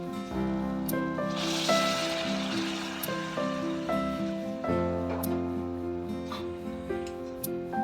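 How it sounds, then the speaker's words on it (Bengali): Hot water poured into a simmering vegetable curry in a pan, a loud burst of hissing and bubbling that settles into steady simmering with clattering utensil knocks, close by and with no talking. "এবার জলটা দিয়ে দেবো"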